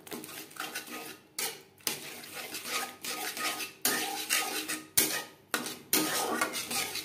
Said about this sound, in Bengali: টক দই মশলার সাথে বেশ ভালো করে মিক্স করে দেবো